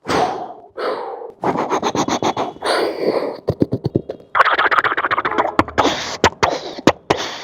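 A voice imitates wartime gunfire, producing rapid bursts of rattling clicks and crackling shots, with long spluttering volleys broken by short pauses, loud and close.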